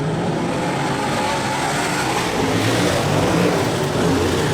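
Race cars roar around the track during a B main event, a dense, loud, continuous engine wash with revving as several cars pass close together.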